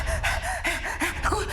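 A narrator's voice imitates an out-of-breath woodpecker with rapid, ragged gasps and panting breaths, loud and close, in an unbroken rhythm of heaving inhales and exhales.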